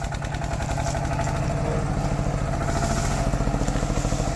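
An RT110 tractor engine pulls a three-disc plough through hard soil, chugging loud, steady and close with a rhythmic low pulse throughout, and nobody speaks.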